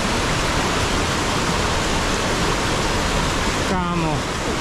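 Broadband roar of a very large, high waterfall fills the scene steadily and loudly from start to end, with a brief voice near the close.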